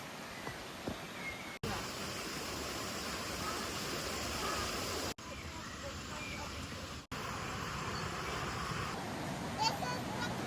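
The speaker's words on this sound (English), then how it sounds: "As you can see, the waterfalls, the river, it all looks amazing." Waterfalls and a river at the Clare Glens in Ireland roar as a steady, loud rush of water, close and unbroken apart from a few very brief cuts.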